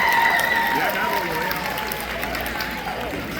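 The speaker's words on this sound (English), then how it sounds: "Can we get another round of applause in Espanol," Applause fills the room at an awards dinner, many hands clapping at once while voices and cheers rise over it, strongest at the start and then easing slightly.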